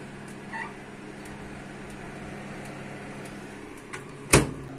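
A baking tray of bun bread dough goes into the oven with one short metallic clatter near the end, heard over a faint, steady appliance hum.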